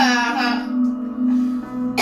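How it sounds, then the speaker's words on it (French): A person coughs hard near the microphone, a couple of harsh throaty bursts with a vocal, laugh-like edge under a steady hum. "Toussez très fort."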